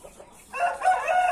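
A mother hen that had been let out with her chicks the day before, now settling to roost, gives soft clucks that rise into a louder run of calls after a quiet start.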